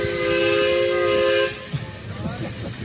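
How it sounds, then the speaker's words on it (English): Steam whistle on a propane-fired, scratch-built model steam train, one loud sustained toot lasting about a second and a half before cutting off, followed by quieter rumbling and clanking. "Gotta love steam whistles."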